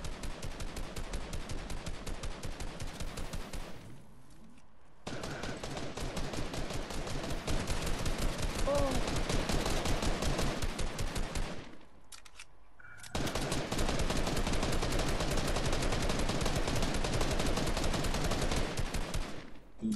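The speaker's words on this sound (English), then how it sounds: "I'm shooting." Rapid automatic gunfire from the video game Fortnite comes in long, dense bursts of shots separated by two brief pauses, loud and continuous with no talk.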